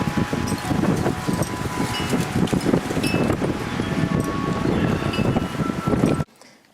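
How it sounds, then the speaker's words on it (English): Strong wind during a storm buffeting the microphone in heavy roaring gusts with rustling, loud and continuous, dropping off abruptly at the end. "but it's very windy now."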